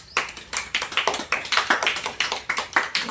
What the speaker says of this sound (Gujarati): આ છોકરાને તાળીઓ પાડો બધા